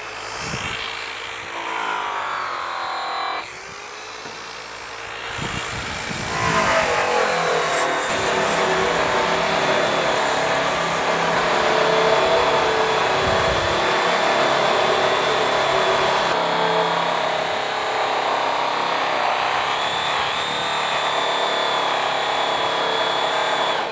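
A power buffer with a white Airway buff and purple compound bar polishes diamond plate, a loud continuous motor whine and rushing drone that shifts pitch as the buff is pressed to the metal, with no talking.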